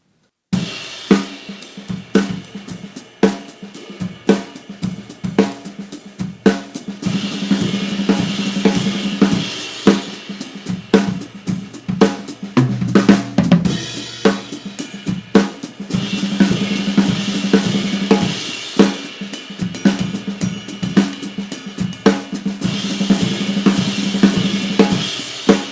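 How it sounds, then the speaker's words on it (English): Drum kit plays a fast, continuous six-stroke roll pattern with crash and ride cymbals alternating on the downbeats and bass drum underneath, a dense, loud, driving stream of snare and tom strokes under sustained cymbal shimmer. "I was just alternating the placement with the right hand from crash cymbal to ride cymbal on the first stroke of the 6-stroke roll"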